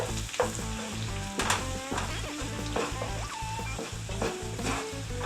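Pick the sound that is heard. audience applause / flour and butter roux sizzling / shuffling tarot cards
flour and butter roux sizzling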